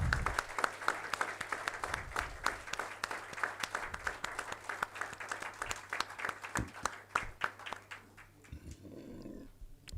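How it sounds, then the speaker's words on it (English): Audience at a social work conference valedictory session claps steadily for about eight seconds, dense and fairly loud, thinning out and fading toward the end with scattered final claps. "A big applause for him."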